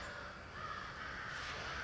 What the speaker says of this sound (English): there's some crows going nuts down there